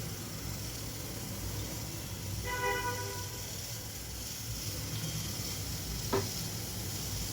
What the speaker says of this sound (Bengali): এখন ফ্রাই প্যানটিতে আমি পরিমাণ মতন তেল দিয়ে দিচ্ছি